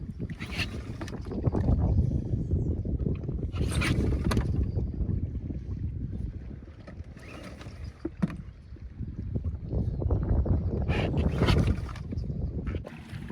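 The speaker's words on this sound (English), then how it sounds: "So we're rowing back" A small boat is rowed back up an estuary, steady splashing and rumbling water with oar knocks and gusts of wind against the microphone, continuous and close for over ten seconds.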